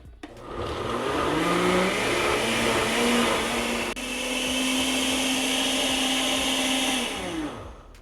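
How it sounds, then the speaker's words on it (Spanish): A kitchen blender grinds seeds for a red Mexican pipián sauce, a loud, steady whirring motor with a gritty churning texture, briefly dipping midway before spinning down at the end. "ahora vamos a agregar nuestras semillas y seguimos moliendo"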